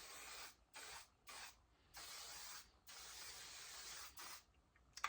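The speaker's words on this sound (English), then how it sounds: "I'm going to finish off with a little bit of hairspray." Five bursts of aerosol hairspray hiss, each lasting about half a second to a second with short pauses between, close and steady, no talking.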